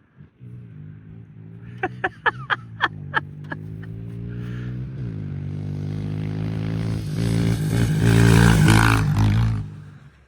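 A small motorbike rides past. Its engine hums steadily under a run of quick sharp clicks, then swells into a louder, rougher roar that builds and fades toward the end.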